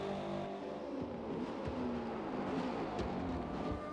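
A Shelby race car laps a circuit in Forza Motorsport, its engine a steady, close, continuous drone with slight rises in pitch, heard without talk.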